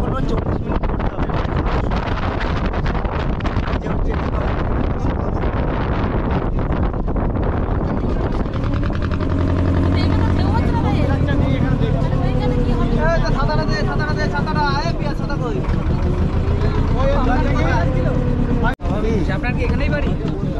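A river launch on a Sundarbans journey drones steadily while wind buffets the microphone with a loud, continuous roar, and people talk throughout over the engine and wind noise.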